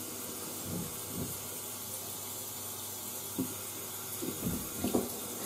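Water running from a shower, a steady faint hiss with a few soft splashing bumps near the end, quiet and without speech.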